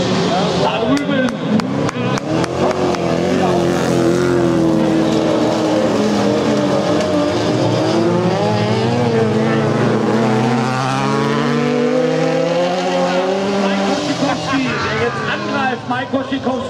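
Autocross race cars, a BMW among them, at a 2016 Hoope superfinal, their engines roaring loud and continuous with revs rising and falling, while an excited commentator talks throughout.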